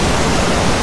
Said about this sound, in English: there's a waterfall right over there